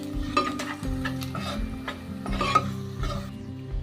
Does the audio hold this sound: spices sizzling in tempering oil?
yes